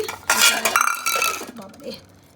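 Metal pot lids from a Puri shopping trip clatter and clink as they are handled and sorted, a close, busy rattle of dishware that thins out toward the end.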